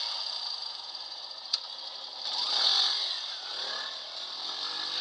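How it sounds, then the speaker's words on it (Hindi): A motorcycle engine sounds out in the dark as its headlight cuts through. A thin, high buzzing drone swells to a peak and then eases off, alone with no speech. "हेडलाइट की चमक और इंजन की गड़गड़ाहट ने माहौल बदल दिया।"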